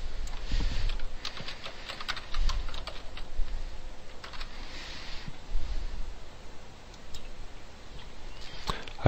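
Clicking keys on a computer keyboard while a file name is typed in SOLIDWORKS, a quiet, irregular patter of keystrokes in short runs with brief pauses, close by and alone without speech.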